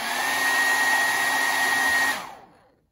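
A hair dryer runs at a steady, loud whoosh with a thin high whine for about two seconds, then switches off and spins down to silence.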